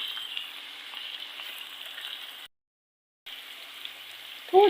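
Vegetables for vegetable rice sizzle steadily in a pan, a continuous close hiss broken by a brief silence, with no talking.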